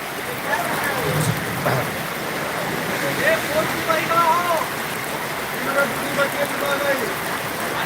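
Floodwater surges through a rain-soaked vegetable market in Boisar, sweeping flowers along in a continuous broad rush, while voices and a few higher calls come and go over the flow.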